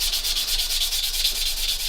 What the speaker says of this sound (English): Then we're going to come in with our black sanding sponge.